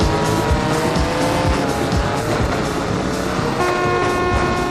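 Retro racing video game: car engines whine while tires squeal and skid almost without a break, loud and dense throughout, with a short horn-like toot near the end and no speech.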